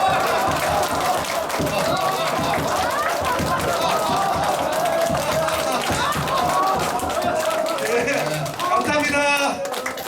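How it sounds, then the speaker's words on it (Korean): A lecture audience at a laughter-therapy talk claps along together, a dense continuous patter of hands mixed with crowd voices and shouts throughout, loud and close. "박수 치면서 시작."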